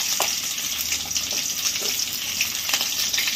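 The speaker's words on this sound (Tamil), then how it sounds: "வெங்காயம் கொஞ்சம் வதங்கட்டும்." Sliced onions sizzle in hot oil with cinnamon and bay leaf for a Tamil goat head curry, a steady close crackling fry with occasional stirring scrapes, no talk.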